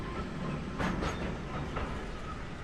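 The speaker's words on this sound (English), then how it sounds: "I have this train sound that I really am not liking right now" A train sound effect in an Unreal Engine game plays as a steady rolling rumble with a faint whirring, ringing tone behind it and a couple of soft clacks, heard alone.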